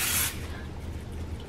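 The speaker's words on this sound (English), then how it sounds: "just spray my meatballs a little bit." A short, loud burst of cooking spray hissing from a can onto meatballs, then a quiet room tone.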